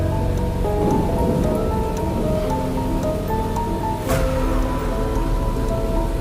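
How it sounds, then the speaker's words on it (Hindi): Steady rain pours down, loud and continuous, with a sharp thunder crack breaking through partway and a low rumbling underneath. "आसमान में बिजली चमकी, तेज हवा चल रही थी और हल्की हल्की बारिश शुरू हो चुकी थी"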